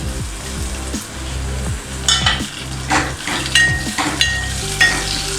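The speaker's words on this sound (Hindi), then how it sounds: "एक बार हल्का सा भूनेंगे।" Ginger and green chillies fry in a pan for raw mango kadhi, a steady sizzle broken by repeated rhythmic spoon scrapes and clinks against the pan, fairly close.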